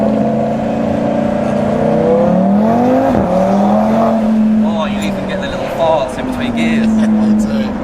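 An Audi RS3 with a Milltek non-resonated catback exhaust accelerates hard, its note climbing steadily, dipping at a shift, then pulling again, loud and close, with voices over it.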